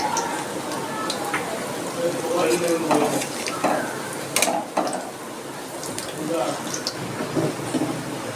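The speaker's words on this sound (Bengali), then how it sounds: "এইভাবে ভেজে তুলে নিচ্ছি।" Small water lily flower fritters deep-frying in hot oil give a steady crackling sizzle with scraping stirs, while a voice talks over the frying.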